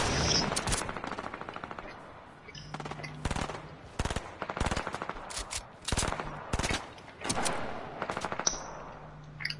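Rapid automatic gunfire rattles in a video game arena duos match, dense bursts repeating in quick clusters with short gaps, loud and close, while a player talks faintly underneath.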